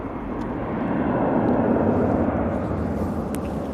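A Lufthansa airliner departs Manchester Airport bound for Frankfurt, its broad jet roar holding steady and fairly loud from a moderate distance throughout.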